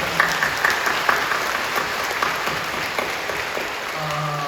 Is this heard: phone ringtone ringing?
no